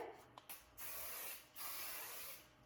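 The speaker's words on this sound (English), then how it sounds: "I go ahead and spray it with my Kenra 25 Hold Hairspray" Kenra 25 Hold hairspray sprayed onto styled hair: a couple of quick short puffs followed by two longer steady hissing bursts, close and alone.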